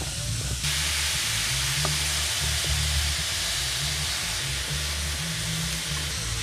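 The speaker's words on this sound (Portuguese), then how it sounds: "Colocar a carne agora para dourar." Beef browning in a hot pan with black pepper, a loud continuous broadband sizzle and hiss that jumps up sharply at the start and holds steady close up, with no voices.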